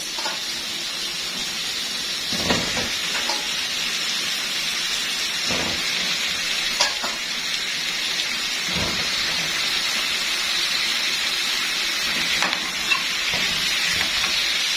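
Potatoes frying with onions in a pan, a steady loud sizzle of hot oil with occasional louder stirring knocks, close and without talk.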